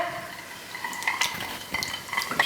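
Tablespoon of masala being stirred into a coffee mixture for tiramisu, with small metallic clinks and scrapes of a spoon against a bowl, close and fairly quiet, irregular light taps throughout.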